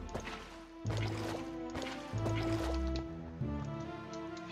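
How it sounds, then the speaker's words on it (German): Water being placed and flowing in the video game Minecraft, with a few soft liquid splashes and gurgles heard under steady in-game background music. "Machen wir mal schnell das Wasser."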